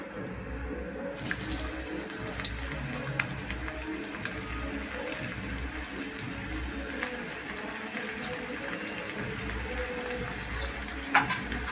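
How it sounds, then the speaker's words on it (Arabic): Liver pieces frying in heated oil in a pan, a steady crackling sizzle that holds throughout at moderate level, with no talking. "وادي الزيت بتاعنا بعد ما سخن. احط الكبده،"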